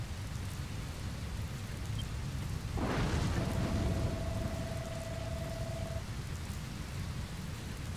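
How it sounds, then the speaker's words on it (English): Steady rain hisses in Dragon Quest Builders 2, with a rumbling thunder-like swell partway through and a sustained tonal note from the game over the downpour. "But where did this rain come from?"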